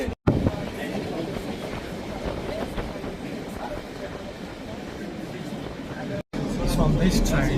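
Inside a busy Swiss passenger train with openable windows, a steady rumbling roar of running on rails fills the carriage, with faint rhythmic clatter and two brief dropouts; voices are heard over it.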